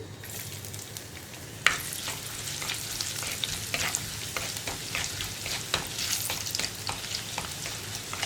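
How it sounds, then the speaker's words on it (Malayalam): Fenugreek seeds frying in a hot pan while being stirred, with a steady sizzle broken by repeated scraping strokes and one sharper clack near the start, close and continuous with no talking. "ഉലുവൊന്ന് ചൂടായി വരുന്നത് വരെ ഇളക്കി കൊടുക്കുക"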